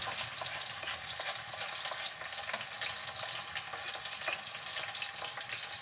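Ground spice paste sizzles and fries steadily in a hot pan, a continuous close crackle with occasional stirring scrapes, no voices.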